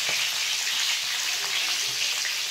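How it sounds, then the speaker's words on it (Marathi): Stuffed capsicum (shimla mirchi) frying in oil makes a dense, steady hiss and crackle, close and loud, continuous without any voices. "कशी मिरची तळते मस्त आहे"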